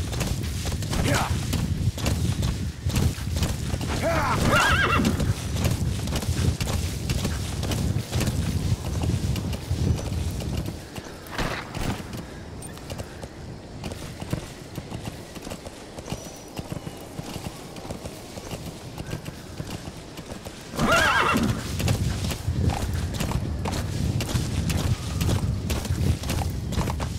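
Horse hooves clip-clop steadily at a walking pace in Metal Gear Solid V: The Phantom Pain, loud and continuous with a couple of brief whinny-like bursts, under wind and faint game ambience.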